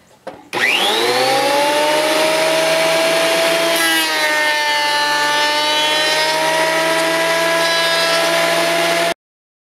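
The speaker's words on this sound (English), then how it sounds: "The planer will make all the boards the exact same thickness and size." A thickness planer runs quarter-sawn boards from a home sawmill, starting abruptly and settling into a loud, steady, high-pitched motor whine that holds for about nine seconds before cutting off.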